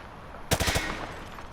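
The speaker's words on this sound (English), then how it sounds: "He sprayed bullets all over the damn place" Hip-fired automatic gunfire in Call of Duty Modern Warfare 2 Remastered on PS4: a sudden sharp burst of about four rapid shots, then a decaying echoing tail.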